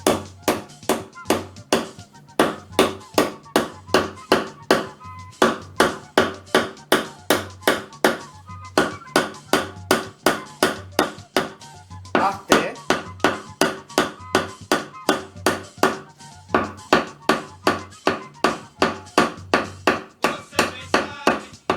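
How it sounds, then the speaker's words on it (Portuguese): A wooden mallet knocks steadily on a wooden plug, driving it flush into a PVC tube to make a fife, dozens of sharp, evenly spaced blows in a brisk continuous rhythm, close and loud. "um martelinho, tá? No meu caso, um martelo de madeira, e vocês vão fazer isso aqui"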